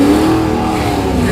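A race car engine revs hard and steadily at a racing event while its wheels spin, a loud, continuous mid-pitched roar that holds for the whole moment without letting up.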